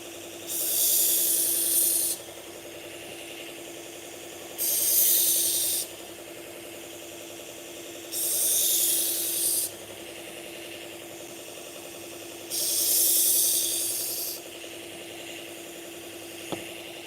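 A knife is drawn across a sharpener in four separate, evenly spaced hissing strokes, each lasting about a second and a half, over a steady low machine hum.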